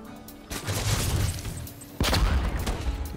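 Gunfire in a StarCraft II match, two sharp bursts of shots about a second and a half apart, each trailing into a rattling volley.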